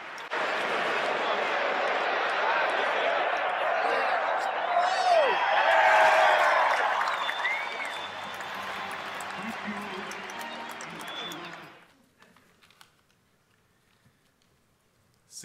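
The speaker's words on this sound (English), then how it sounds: "Let's have a warm round of applause" An audience breaks into sustained applause as Japan's ambassador Ryozo Kato is introduced to accept a lifetime achievement award. The full, steady clapping swells, carries a few whistles and cheers, then dies away abruptly into near silence.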